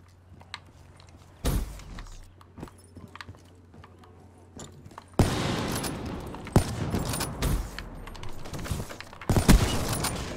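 Gunfire in Call of Duty Black Ops 3 quickscope 1v1 play, with a single loud shot early, then dense bursts of rapid shots and sharp cracks over a busy game din, no speech.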